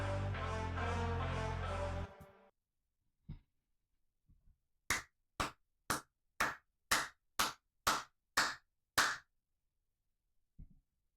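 After music cuts off, one person claps about nine times, slowly and evenly, each clap sharp and close in a quiet room, with a couple of soft taps before and after.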